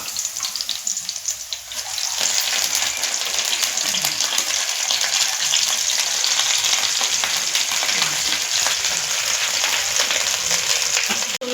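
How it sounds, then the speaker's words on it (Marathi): Amaranth greens dropped into hot oil tempering in a home kitchen, bursting into a loud, steady sizzle that continues close by, with a short quieter moment before it. "फोडणी दिलंय चांगली, तर आपण यात आता भाजी टाकूया."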